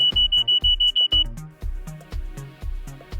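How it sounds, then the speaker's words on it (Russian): A Nokia 6100 mobile phone's built-in alarm clock rings with a rapid train of sharp electronic beeps, then shifts into a rhythmic, repeating tonal melody, close and clear with no voices. "Встроенный будильник работает только в однократном режиме"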